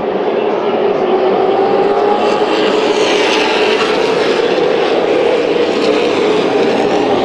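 Late model stock cars race side by side down the back straightaway of a Las Vegas oval, a steady loud engine roar sustained throughout with a race announcer talking over it.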